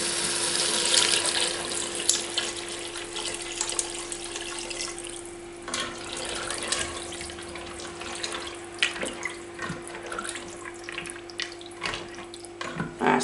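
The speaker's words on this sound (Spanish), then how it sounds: "y vamos a echarle el agua." Water pours into a pot of macaroni and chicken as a steady, close splashing stream with a faint continuous hum beneath and occasional clinks, fairly quiet overall.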